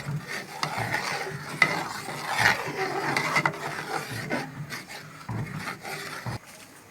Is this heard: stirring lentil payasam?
yes